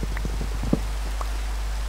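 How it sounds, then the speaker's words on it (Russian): Rain falling in Minecraft, a short stretch of soft pattering drops over a constant low hum, brief and fairly quiet. "Дождь, ничего страшного,"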